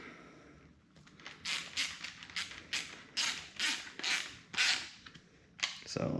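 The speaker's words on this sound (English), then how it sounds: "I'm gonna go ahead and tighten up this clamp" An 8mm hose clamp being tightened on the air filter adapter of a 1993 Nissan Skyline RB20DET, a series of sharp ratcheting clicks in short bursts, close and distinct, with pauses between turns.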